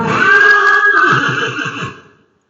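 A young horse gives one loud, close whinny that rises and then breaks into a shuddering, fluttering neigh before stopping abruptly into silence.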